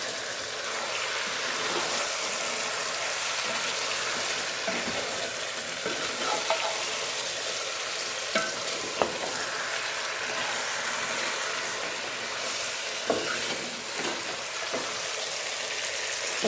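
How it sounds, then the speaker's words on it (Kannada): Marinated chicken for chicken biryani stirred and mixed in a hot pan, a steady close sizzle of frying with scraping spoon strokes and occasional clicks throughout. "ನೋಡಿ ಮ್ಯಾರಿನೇಟ್ ಮಾಡಿರೋ ಚಿಕನನ್ನು ನನಗೆ ಹಾಕ್ಕೊಂಡಿದ್ದೀನಿ. ನೀಟಾಗಿ ಮಿಕ್ಸ್ ಮಾಡ್ಕೊಳ್ಳೋಣ."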